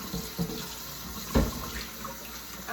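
Tap water runs over a cast iron pan being rinsed at a sink, a soft steady splash with a couple of brief louder sloshes.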